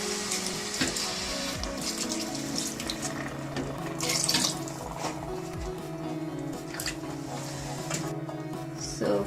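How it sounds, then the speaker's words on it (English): Water poured from a measuring cup into a simmering spinach and black chickpea curry, a steady running splash with a few louder surges, close and continuous with no talking. "So now it's time to add water."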